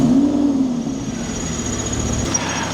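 A Lamborghini Huracan engine idles steadily up close with a constant low rumble and a faint ticking undertone from a faulty valve noise.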